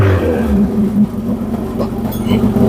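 A genuine Cosworth BTCC race car engine runs in a workshop, a loud, close, steady rumbling drone with slight roughness and small rises in pitch throughout.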